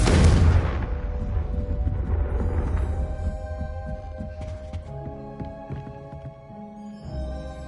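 A Confringo blasting spell fires in Hogwarts Legacy, opening with a loud, deep burst that rolls into a lingering crackle and tonal ringing under game music, fading over several seconds with a small swell near the end.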